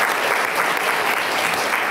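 Brief burst of dense audience applause at a Global Health Day awards event, steady and even throughout with no talk over it.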